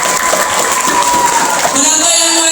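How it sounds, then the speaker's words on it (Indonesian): Audience applause and cheering at an Isra' Mi'raj religious gathering, for a child named Maulida after a sermon on prayer; dense clapping fills the stretch steadily, with a tonal sound entering near the end. "Tepuk tangan untuk Maulida"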